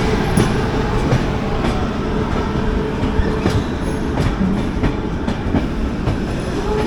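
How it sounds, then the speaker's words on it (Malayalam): The Navjeevan Express to Ahmedabad passes through a station platform, wheels clattering steadily over rail joints with a loud continuous rumble and faint high squeals. "അഹമ്മദാബാദിലേക്കുള്ള നവജീവൻ എക്സ്പ്രസ് ആണിത്."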